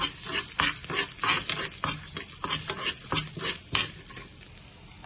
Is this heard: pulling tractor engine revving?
no